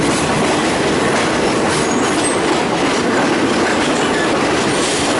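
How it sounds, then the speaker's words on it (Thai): A Surat Thani train in Thailand rumbles past close by, a steady loud roar of wheels on rails with faint clattering throughout, no voices. "นี่รถไฟสุราธานี"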